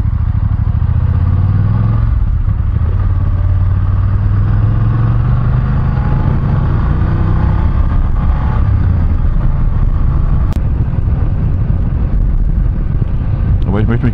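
A BMW F850GS motorcycle on a test ride, its engine droning loud and low over steady wind buffeting with occasional pitch shifts between gears, while a rider talks continuously over it.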